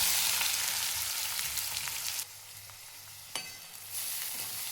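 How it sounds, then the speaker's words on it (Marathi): Chopped onion frying in hot oil with mustard seeds and cumin for a Maharashtrian dal dish: a steady close sizzle that drops suddenly, with a brief clatter of stirring before it picks up again. "कांदा तेलामध्ये भाजून घ्यायचा"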